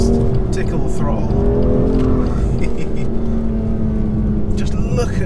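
A 2019 BMW M2 Competition's engine drones steadily from inside the cabin while driving, a loud continuous hum with a slowly shifting pitch, and someone talks over it.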